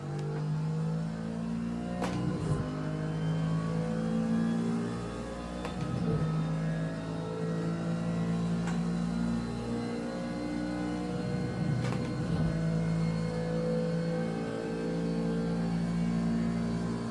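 Race car engine in a PS4 sim racing game revs steadily through a lap on cold tyres, a sustained mid-pitched drone rising and falling with throttle, loud and close, with no talking.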